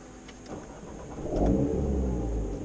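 Alpine A110 with a 300-horsepower 4-cylinder engine starting, a short crank followed by a rising catch and a fruity pop, close and fairly quiet, with no talk.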